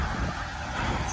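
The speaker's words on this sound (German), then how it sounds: "Es kommen gerade ganz viele Autos." Traffic streams by on the B255 federal road near the closed Montabaur Himmelfeld exit, a steady moderate roar of several cars passing continuously at a middle distance.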